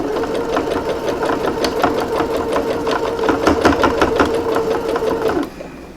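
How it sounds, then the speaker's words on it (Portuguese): Sewing machine stitching a custom fabric bag, a steady close mechanical whir with a rapid needle clatter running continuously for about five and a half seconds before stopping abruptly. "Seguro as duas perninhas e começo a fazer a minha costura."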